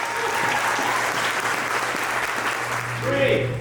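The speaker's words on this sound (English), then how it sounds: "Can I get one more round of applause for Keith?" A room full of people applauds at a security pitch night, a steady continuous round of clapping with a low hum beneath and a brief voice near the end.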